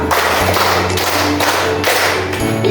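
Rhythmic hand clapping during a classroom lesson, a group counting out claps from one to five: a series of sharp, evenly spaced claps, close and fairly loud, with no talk over them.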